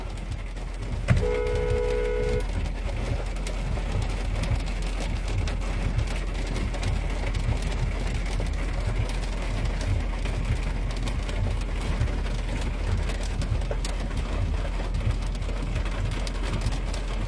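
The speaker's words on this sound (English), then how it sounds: "I'm not getting out my car until this rain literally stops." Rain drumming steadily on a parked car, a dense constant patter with a brief tonal chime near the start, continuing without a break.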